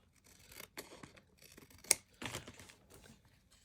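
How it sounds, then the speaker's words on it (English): Scissors snip through paper during a craft glue-down project, a few short crisp cuts with one sharp snap near the middle, close and quiet, with no talk. "Like Barbara, I'm going to have to cut this top off."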